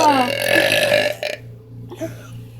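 A long, loud, drawn-out air burp at close range with a croaking pitch that slides up and down, followed by short, fainter throaty sounds.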